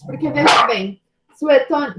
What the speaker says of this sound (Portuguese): Desculpa pelo meu cachorro